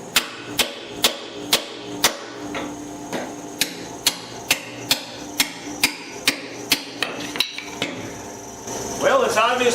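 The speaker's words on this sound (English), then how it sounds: "I'm going to see if I can chisel it off." A hammer drives a chisel to knock worn metal pieces off a grapple bucket, giving around eighteen sharp, ringing metallic blows at a steady pace, close up, followed by a brief rougher clatter at the end.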